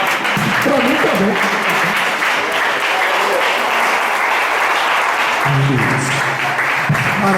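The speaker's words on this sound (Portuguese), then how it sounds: "Irmãos, vamos aplaudir o Senhor bem forte, amém?" A church congregation applauds loudly and steadily in a dense, continuous wash of clapping, with a voice and some musical tones faintly beneath it.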